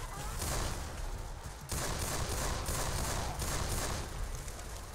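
Heavy, continuous gunfire rattles through a Left 4 Dead 2 zombie fight, dense and fairly loud with no clear gaps between shots, while players talk faintly underneath.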